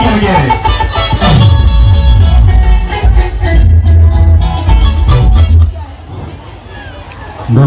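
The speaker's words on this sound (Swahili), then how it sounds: "Chapa makofi na vigelegele." An audience at a primary school ceremony in Rugese village claps and ululates in a loud, sustained burst of crowd noise that drops off sharply near the end.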